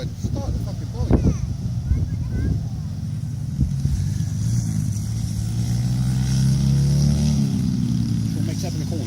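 Pit bike engine revving and droning during a race, loud and close with rising pitch, wind buffeting and people talking over it.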